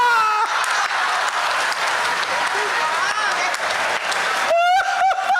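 A live audience claps steadily throughout a Hindi-language comedic talk about elections. Scattered voices rise over the dense applause, and a speaking voice breaks through clearly near the end.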